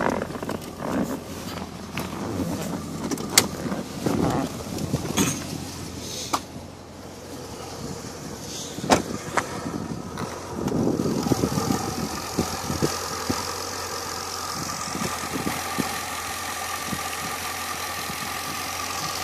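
A supercharged 2008 Corvette engine with an E4 system, near 600 horsepower, idles under the hood with a steady, close mechanical rumble, broken by scattered clicks and knocks.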